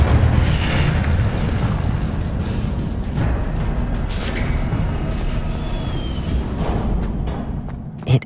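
A fire spell cast in Hogwarts Legacy lets out a steady, loud roaring rumble, like a whooshing burst of flame, that holds for several seconds and ends with a sharp pop.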